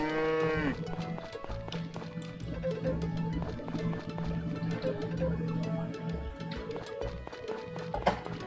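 A cow in the farming video game Story of Seasons: Friends of Mineral Town gives a short moo at the start, followed by looping background game music and soft hoof-like clip-clop effects.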